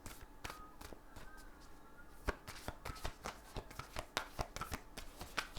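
A brand-new deck of oracle cards being shuffled by hand, with stiff cards giving sharp, uneven bursts of riffling and slapping that grow busier and louder toward the end, close up in a quiet room with no talking.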